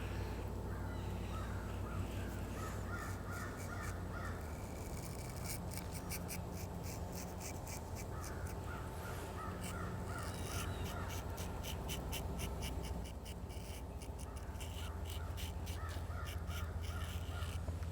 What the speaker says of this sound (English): Can you hear the birds and whatnot?